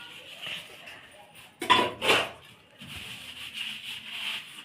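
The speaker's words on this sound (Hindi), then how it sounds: "अब आराम से बर्तन कर लूंगी" Dishes, pots and spoons clatter and clink as they are washed in a home kitchen, with a loud burst of metal knocks in the middle and a voice talking softly beneath.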